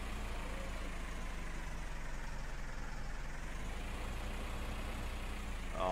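A Massey Ferguson tractor engine in Farming Simulator 15, a steady low diesel drone held evenly throughout with a slight swell at the end, no talking.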